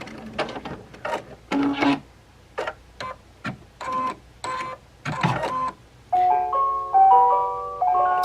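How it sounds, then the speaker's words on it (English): A Baby Lock Ellisimo embroidery machine stitches on leather in short bursts of mechanical whirring, stopping and starting, then ends with a few electronic beeps. "now you can see how beautiful it sews on leather"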